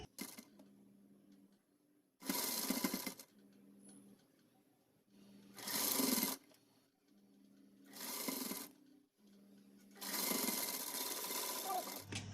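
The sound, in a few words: sewing machine stitching a Pathani kurta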